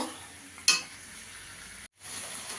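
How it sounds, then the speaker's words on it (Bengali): Chicken sautéing in a pan over raised heat for a Bengali lal jhol curry: a steady sizzle, a sharp clink of a spoon against the pan, then a brief cutoff before the frying resumes. "গ্যাসের আঁচটা বাড়িয়ে 5 মিনিট ভালো করে কষিয়ে নেব।"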